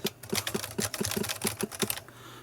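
Keystrokes on a ZX Spectrum computer keyboard, about a dozen quick, crisp clicks in an uneven typing rhythm, close and clear with no talk.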